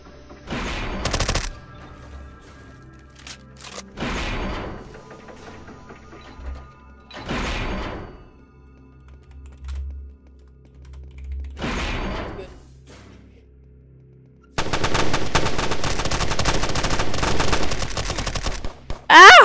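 Gunfire inside a Roblox SCP facility video game: four separate loud blasts spaced a few seconds apart, then a dense, continuous burst of rapid fire that carries on to the end.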